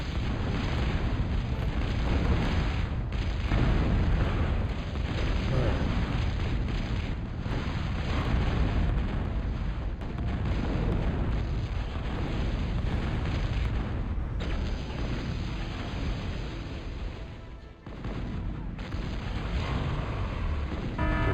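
Units blow up in a Total Annihilation battle, a dense, continuous roar of overlapping explosions and rumbling booms that barely lets up, with a brief dip near the end.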